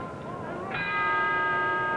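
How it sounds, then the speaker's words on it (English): Boxing ring bell sounding to open round seven of the Carlos Ortiz vs. Paolo Rossi fight: a single bright, sustained ringing tone that starts partway through and hangs on, over a low crowd murmur. "Bell for round seven, Paolo Rossi, the black trunks, Carlos Ortiz"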